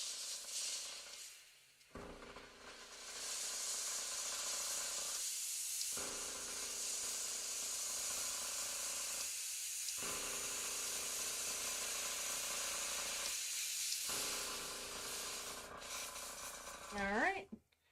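An airbrush sprays continuously to flush out leftover acrylic paint, a steady close hiss broken by four brief pauses, with a small clatter at the end.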